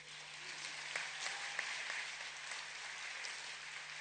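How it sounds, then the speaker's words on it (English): Continuous applause from a large event audience for President Samia Suluhu Hassan, even and fairly distant, with a faint steady hum underneath. "Another round of applause for President Samia Suluhu Hassan."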